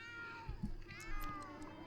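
A cat in The Sims 2 gives a few soft meows over a quiet layer of game music.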